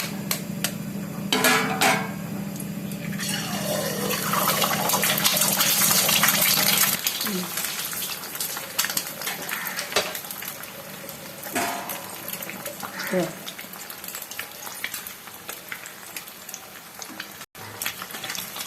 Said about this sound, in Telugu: ఆయిల్ వేడెక్కింది కదా, నేను ఆ నూడిల్స్కి 4 ఎగ్స్ తీసుకున్నాను. ముందు ఎగ్స్ ఇందులో కొట్టుకుందాం.